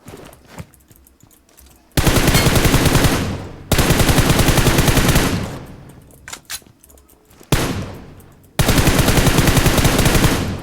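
Bursts of automatic gunfire from the PUBG Mobile battle royale shooter, played on an emulator, come in three long loud volleys separated by quieter gaps with scattered single shots.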